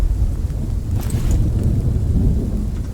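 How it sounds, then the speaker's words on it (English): Rain pours steadily in a thunderstorm in the video game Outlaws of the Old West, with deep rumbling thunder underneath and a brief crackle near the middle, constant and loud. "We're in the middle of this thunderstorm."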